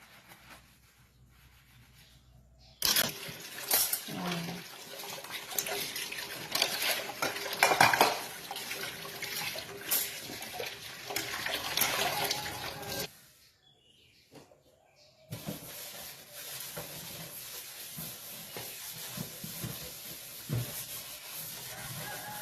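Dishes being washed up close: scrubbing, rubbing and clinking of plates and cutlery in bursts, with short quiet pauses between.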